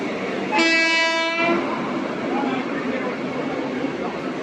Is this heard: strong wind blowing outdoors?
no